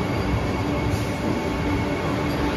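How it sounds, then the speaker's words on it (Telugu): Chennai to Bangalore double decker train pulling away at departure, a steady loud rumble of wheels and carriage noise with a constant high whine throughout, no talking. "ఎగ్జాక్ట్ 5:50కి అయితే స్టార్ట్ అయిపోయింది ట్రైన్"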